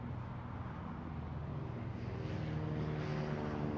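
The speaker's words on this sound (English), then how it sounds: "We are now getting the next aircraft off. From the grass, the de Havilland DH-89A Dragon Rapide." A de Havilland DH-89A Dragon Rapide twin-engine biplane takes off from a grass strip at an air show, its propeller engines a steady droning rumble at moderate distance that swells slightly toward the end.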